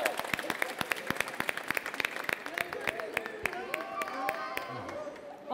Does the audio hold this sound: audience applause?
yes